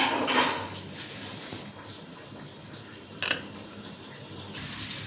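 Cooked rice scooped out of a pot, with a few sharp clinks and scrapes of a spoon on metal over quiet kitchen background and no speech.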